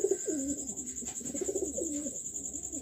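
Domestic pigeons at a local pigeon farm give soft, repeated, rolling coos close by, one call overlapping the next, over a faint steady hum.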